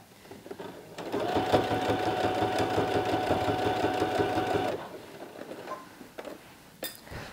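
Sewing machine stitching straight-strip edge binding onto fabric: a steady mechanical whirring run of about four seconds, then it stops, followed by faint handling clicks and rustles.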